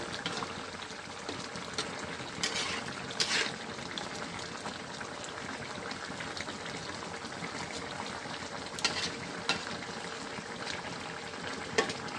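Fish fries in a pan in a home kitchen, a continuous crackling sizzle with scattered pops and spits, close and moderately loud, with no talking.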